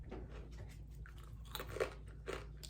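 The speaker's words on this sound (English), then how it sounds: "And super crunchy, can you hear that?" Crisp, thin, very salty and garlicky Ukrainian rye crackers being bitten and chewed close up, a few quiet crunchy snaps and crackles over soft chewing.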